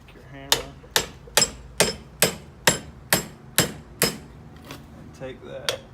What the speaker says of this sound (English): Now just take your hammer.